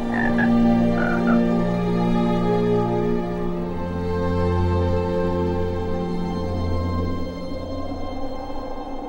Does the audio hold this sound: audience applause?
no